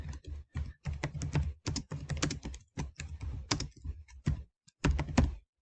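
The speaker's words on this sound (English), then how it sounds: "And you're going to type your answer in." Rapid, uneven keystrokes clatter on a computer keyboard as an answer is typed, close and fairly loud, in short bursts separated by brief pauses, with no talking.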